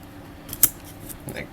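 Scissors snip fly-tying material at a tying bench, giving one sharp, close metallic cut with a faint second snip after it, and no talking.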